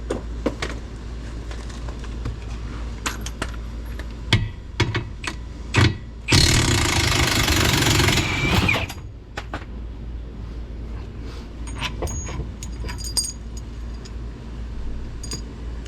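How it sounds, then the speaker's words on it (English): An impact wrench with a 21mm socket removes the bottom bolt of a rear strut on an R50 Mini Cooper. It gives one loud, sustained burst of about two seconds amid scattered metallic clicks and clanks in a quiet garage. "Now we're going to use our impact and a 21mm, and we're going to take the bottom bolt out."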